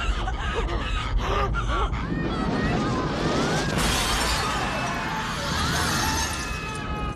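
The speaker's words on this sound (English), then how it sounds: "if all the glass is breaking" Glass shattering in a movie scene from Total Recall (1990): sharp breaking bursts early on, then a prolonged cascade of crashing, tinkling glass, with gasps and strained groans mixed in.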